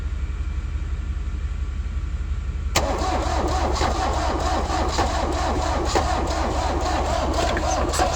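A 1970 Mercedes-Benz diesel engine cranks briefly and then catches, settling into a loud, rough, knocking idle that carries on steadily afterward.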